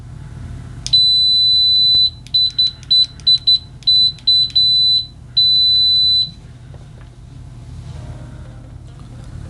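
A Kaiweets KM-601 multimeter in continuity mode emits a loud, high steady beep, first held, then broken into a quick series of short chirps, then one more long tone, over a low background hum.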